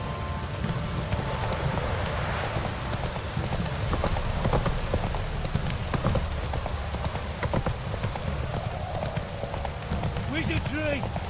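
Rain falling in The Witcher 3 video game, a steady hiss of drops on surfaces mixed with the clip-clop of horse hooves, continuous and moderately loud.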